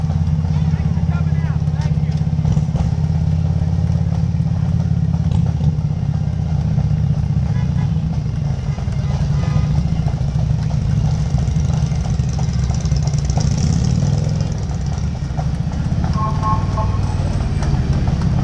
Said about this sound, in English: What a wonderful day to ride a motorcycle.